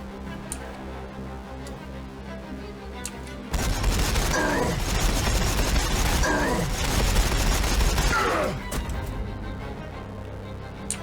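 Sustained battlefield gunfire in Warhammer 40k Battlesector, a turn-based strategy game with Ork units, a dense rattling fusillade with booms that swells suddenly over ambient game music, holds for several seconds, then drops back to the quieter background.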